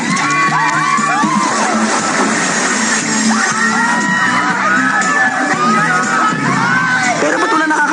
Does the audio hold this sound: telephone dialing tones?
no